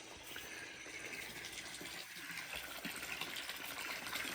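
Water draining out of a collapsible water container down to an inch or two, at an outdoor solar-powered homestead in Hawaii; a steady, fairly close gushing and trickling flow runs continuously, with no talking.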